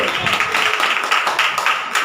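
A congregation claps in quick rhythmic bursts during a Hindi Christian church service, a steady run of sharp hand claps filling the room.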